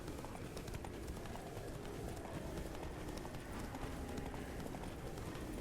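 A horse gallops in The Witcher 3 with a continuous rhythmic clip-clop of hooves, faint and steady under a constant background wash, with no talk heard.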